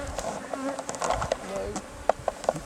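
Queen bee flying close by near an open hive, a thin insect buzz with short louder passes standing out over the steady drone of the colony.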